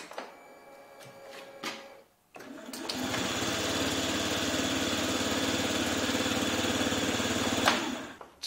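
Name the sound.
Yamaha Gear water-cooled scooter engine starting smoothly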